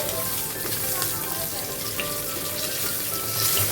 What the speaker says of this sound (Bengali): এরপরে দেখো ইলিশ মাছের মাথাগুলো আমি ভালোভাবে ভেজে নিলাম।